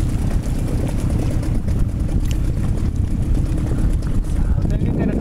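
A new boat's outboard motor runs loud and close, a constant rough engine drone with no pauses.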